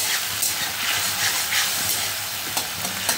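Bengali egg curry masala with red chili powder sizzles and fries in a pan while being stirred, a continuous bright hiss with soft scraping strokes close by.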